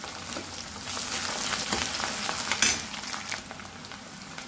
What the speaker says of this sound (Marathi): ही पेस्ट ही आपल्याला 1-2 मिनिटं परतून घ्यायची आहे।